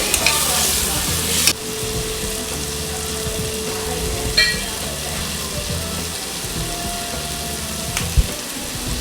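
Chopped large tomatoes sauté in a hot pan with a constant sizzle, close and fairly loud, with a few sharp clinks of a spoon stirring at intervals and no voices.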